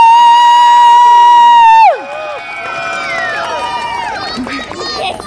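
A loud sustained tone gives way to an audience cheering, shouting and clapping to pick the winner of a Halloween contest in Namysłów, with voices mixed into the crowd noise.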